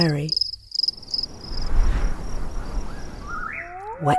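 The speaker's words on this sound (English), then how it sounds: "Prairie." Prairie ambience from a nature sound effect library: a steady chorus of crickets and insects over a soft wind-like wash, with a few nearby bird chirps and calls at the start and end.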